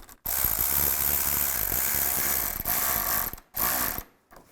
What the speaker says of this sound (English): Get the hose on the radiator. And tighten down the clamp.